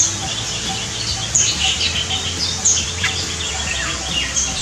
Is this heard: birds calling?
yes